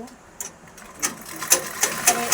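Sewing machine double-stitching a size-32 blouse, giving short bursts of rapid stitching that come in quick repeated pulses, close and moderately loud over a quiet room background.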